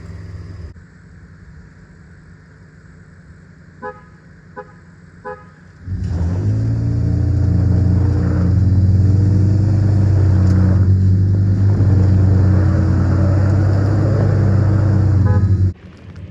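A truck in two-wheel drive with no lockers, traction control on and tires not aired down revs hard for about ten steady loud seconds while pulling on a recovery strap hooked to soft shackles, after a quieter idle with a few faint clicks.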